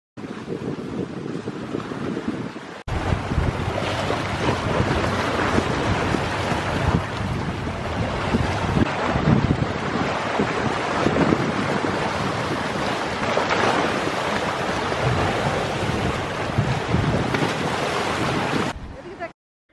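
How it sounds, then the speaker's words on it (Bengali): Waves on a river heard from a boat during a fishing outing, a steady broadband wash with wind buffeting the microphone, loud and continuous after a quieter opening, with no talk. "এত সুন্দর নদীটা আর নদীর যে ঢেউর সাউন্ডটা এটা শুনতেই আমার ভালো লাগছিল"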